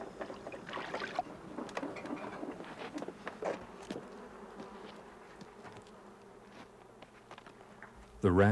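Flies buzz continuously around racks of fish hung to dry over smudge fires outdoors in a forest camp, a close, steady insect drone with a sharp louder burst at the very end.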